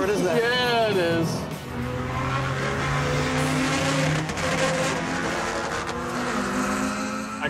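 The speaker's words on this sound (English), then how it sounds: "I've never driven so fast around such tight turns like this in a car." A car driven fast through tight turns during stunt driving, its engine revving and whining up and down in pitch, with tyres squealing, loud and close, while people talk over it.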